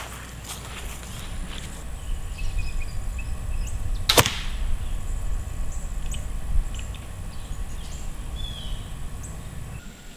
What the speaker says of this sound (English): I want you to listen to the noise when I pull the trigger